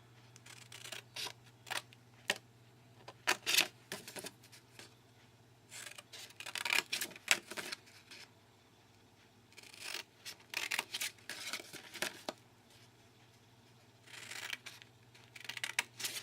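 Paper being cut with scissors for a DIY bath bomb box, close and quiet, with irregular bursts of snipping and rustling separated by short pauses over a faint steady hum.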